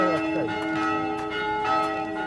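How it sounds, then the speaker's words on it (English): Church bells in Kautokeino ringing before an Easter service, with steady overlapping tolls that resonate continuously at moderate distance, while faint voices murmur underneath. "Bells are summoning everyone to church."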